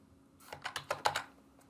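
Short burst of keyboard typing, about eight quick close keystrokes in an uneven rhythm, heard alone in a quiet room while entering text into a SharePoint file-content step of a Power Automate flow.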